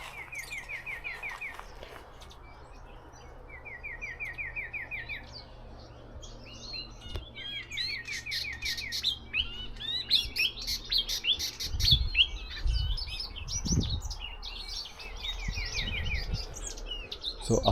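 Birds among trees in a residential area call and sing in repeated rapid trills and scattered chirps, some near and some farther off, with a few low rumbling thumps near the end.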